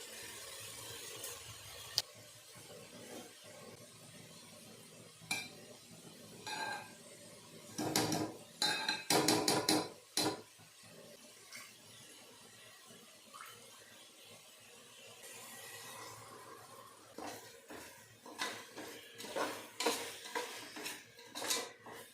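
Kitchen utensils and pots clatter and clink near a pan of milk warming on the stove in the morning, irregular metallic knocks and scrapes in clusters, some bursts loud and close, others faint, no talk.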